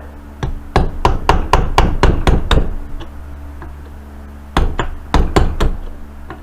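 A hammer knocks out a drilled rivet on a Corvair suspension part, a fast burst of about eight sharp metallic blows, a pause, then several more strikes, loud and close with no voices.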